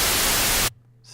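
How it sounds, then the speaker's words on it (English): Pink noise test signal used for leveling a mix: a loud, steady broadband hiss that stops abruptly after about two-thirds of a second, leaving near silence. "that's the pink noise you're hearing right now."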